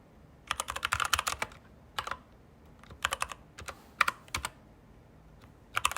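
Code is typed on a computer keyboard in quick bursts of close, crisp key clicks separated by short pauses, with a few isolated keystrokes between the runs in an otherwise quiet room.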